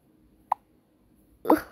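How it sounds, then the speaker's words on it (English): Cartoonish fart sound effect in the Toca Life video game: a short quiet pop early on, then a louder, brief spluttering burst near the end, with no talk. "Ooh, why did you fart?"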